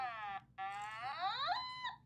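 An Otamatone is played with its slide bar, giving two buzzy, nasal electronic tones close up. The first holds briefly, then after a short gap the second swoops upward in pitch before stopping.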